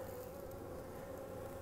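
Honey bees from an opened hive being split hum in a steady, faint, continuous buzz, a dense swarm drone with no speech over it.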